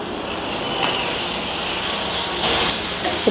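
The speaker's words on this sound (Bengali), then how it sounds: "ভালোভাবে মশলাটা আমি কষিয়ে নেব।" Spice masala with ginger and soaked cumin and coriander frying in a pan for chicken: a loud, steady hiss and sizzle with a couple of brief stirring scrapes, close and continuous.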